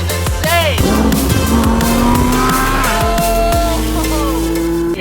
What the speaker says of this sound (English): this twin turbo Performante is insane